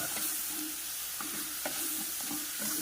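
Dried fish fries with chilli powder being stirred in, giving a soft, steady sizzle with a few light scrapes of a spoon against the pan, fairly quiet and without talk.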